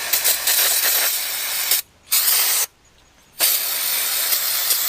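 Brake parts cleaner hisses from an aerosol can onto brake caliper slides in loud, steady bursts, with two short pauses between sprays and no talking.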